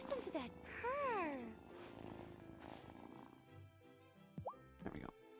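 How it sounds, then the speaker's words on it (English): A cat in the video game Wylde Flowers purrs as it is petted, soft rumbling under game chimes and tones, with a voice talking over part of it. "Actually pet the cat. Listen to that purr."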